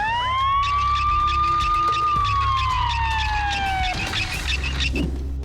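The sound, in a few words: ambulance siren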